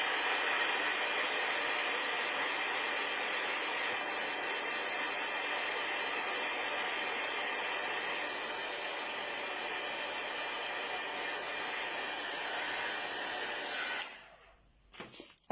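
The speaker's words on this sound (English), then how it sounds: "again dry these." A heat tool blasts a steady, loud, hissing stream of air over acrylic paint drying on paper craft pieces, running unbroken for about fourteen seconds before cutting off abruptly.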